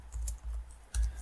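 Short bursts of keystrokes on a computer keyboard while writing website styling code, a few quick clustered taps close up with brief pauses between them.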